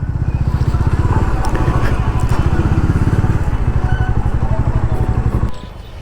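A motorcycle engine idles steadily and close by in a parking area, its low throbbing pulse running for about five seconds before cutting off near the end.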